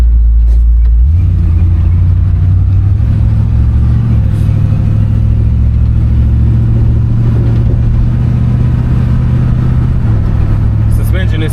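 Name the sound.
1969 Ford Fairlane driving down the street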